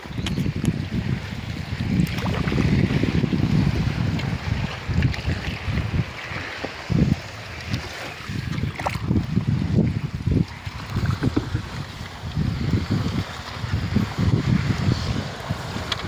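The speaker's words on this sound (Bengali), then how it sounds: "আমি এদিকে নৌকা চালাচ্ছি না, বাবাই চালিয়ে নিয়ে যাচ্ছে।" A boat on open water is rowed along by hand, with steady low rumbling water and wind buffeting the microphone throughout, faint irregular knocks and splashes mixed in, and no talking.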